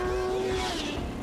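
An MV Agusta motorcycle is ridden past, its engine a loud, close, high whining tone that shifts in pitch as it goes by in about a second.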